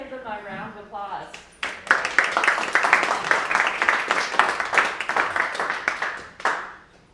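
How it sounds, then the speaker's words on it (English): An audience at an amateur radio club outing on Henry Island breaks into applause. Clapping starts after a short spoken line, stays dense and steady for several seconds, then tapers off with a final burst. "let's give them a round of applause"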